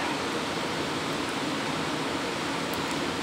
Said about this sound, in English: There's a lot of white noise, and it's coming from these pieces of equipment right here.